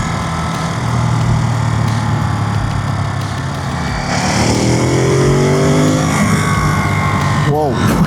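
A Ducati Monster naked sports bike ridden in urban mode, its engine droning under wind rush, then rising and dropping in pitch several times as it shifts up through the gears. A voice is faintly audible.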